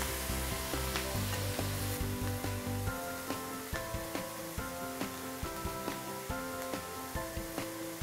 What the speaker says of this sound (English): I'm going to put it to a fresh, hot part of the grill.